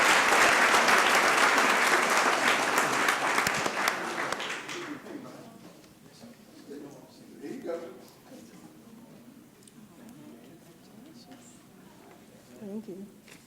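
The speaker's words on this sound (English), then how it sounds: "Let's give them another round of applause." Loud applause from a city council meeting audience for city employees fills the first few seconds, then fades out as a voice speaks over the quieter room.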